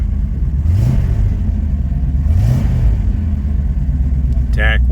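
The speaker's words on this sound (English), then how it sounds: "cold start. Starts right up." A 1968 Ford Mustang GT fastback's engine rumbles steadily after a cold start, close and loud, with two rising revs that fall back to idle.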